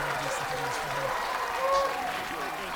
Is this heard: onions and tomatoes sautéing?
no